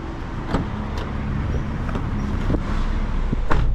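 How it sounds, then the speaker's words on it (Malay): Interior of a 2007 Toyota Avanza 1.5 G automatic on a test drive, with a steady low engine and road rumble and a few short clicks and knocks from the cabin, no talking. "Ok, so sekarang kita pergi test ride ni kereta"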